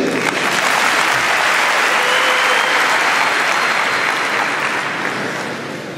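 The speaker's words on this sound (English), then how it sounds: "Once again, a round of applause for the good master's manager." A large arena audience applauds loudly and continuously, a dense wash of clapping that holds steady for several seconds before starting to taper off.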